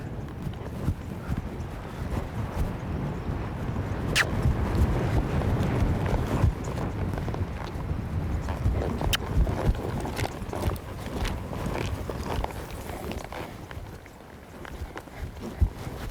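A ridden horse that is getting pushy under its rider moves along in steady clip-clop hoof steps over a continuous wind-buffeted background, with occasional sharper knocks.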